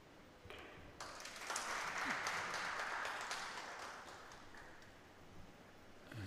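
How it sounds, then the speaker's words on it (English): A table tennis crowd applauds the local favourite in a sustained, moderately distant round of clapping that swells after a second, holds steady, then thins toward the end. "taking the round of applause"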